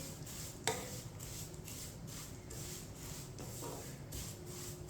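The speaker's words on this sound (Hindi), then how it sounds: "सेवइयों को अच्छी तरह मिक्स करना है ऑयल में।" Seviyan vermicelli being stirred in oil in a pan over a medium flame, a steady soft rubbing scrape with one sharper knock of the utensil early on and a faint sizzle beneath.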